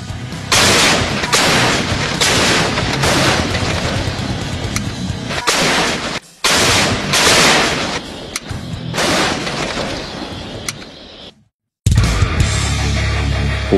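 An M2A2 105 mm howitzer fired by Indonesian Marine Corps crews, with loud, dense, continuous blasts and rumble filling the scene, broken by a couple of brief cutouts.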